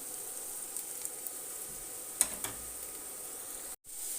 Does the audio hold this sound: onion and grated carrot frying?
yes